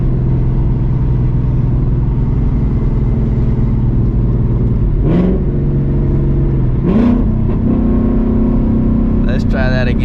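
A car with an MT82 manual transmission idles loudly, then revs in short bursts as the engine pitch climbs and drops between shifts, close up.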